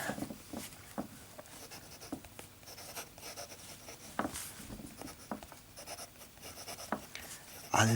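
A pen moves across smooth Rhodia paper, writing in Rohrer und Klingner Alt Goldgrün ink at a medium pace, giving a close, soft scratching with light rhythmic strokes and brief pauses.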